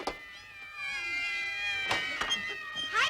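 Several cats meow and caterwaul from the trees at a neighbour's house, a thin, wavering chorus of overlapping cries that swells and breaks off in sharper yowls, fairly close and loud.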